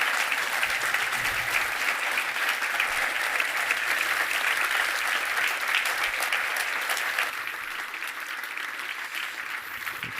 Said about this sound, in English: Should we give him a big round of applause?